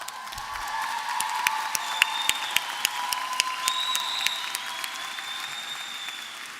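Applause from a graduation ceremony audience after Doctor of Philosophy degrees are awarded, a steady distant patter of many hands with a few sharper claps and faint cheering mixed in.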